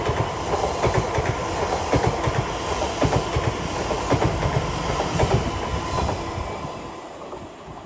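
An Elizabeth line Class 345 electric train bound from Maidenhead to Abbey Wood passes at West Ealing on the Great Western Main Line, a loud, steady rumble with rhythmic clickety-clack of wheels over rail joints, easing slightly at the end.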